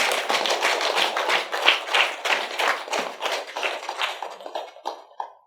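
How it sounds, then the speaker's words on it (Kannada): Applause from an audience at a meditation anniversary program, a dense patter of many hands clapping at close range that thins out and fades toward the end. "ಅವ್ರಿಗೊಂದು ಜೋರಾಗಿ ಚಪ್ಪಾಳೆಯನ್ನು ತಿಳಿಸಲ್ಲ"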